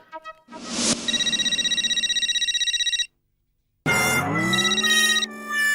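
A telephone rings loudly and steadily in a home setting for a sitcom scene, a rapid trilling bell lasting a few seconds, breaking off briefly, then ringing again.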